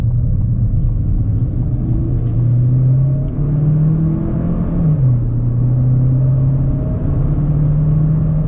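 A 2026 GMC Terrain AT4 compact SUV heads downhill with all-wheel drive locked, its engine a close, steady low hum with shifting pitch over tire and cabin rumble.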